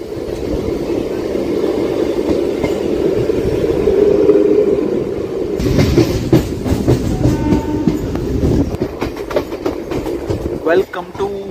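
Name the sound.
train running on railway track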